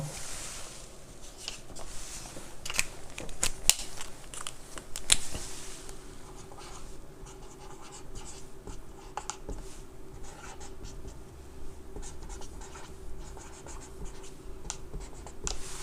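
A pen scratches across paper while a physics problem on upward-thrown motion is worked out, giving close, quiet strokes and taps in irregular bursts with short pauses between.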